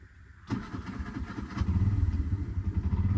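Tuk tuk engine catching at start in Sri Lanka, then running and revving under throttle with a steady low chugging pulse, loud and close, no talk over it.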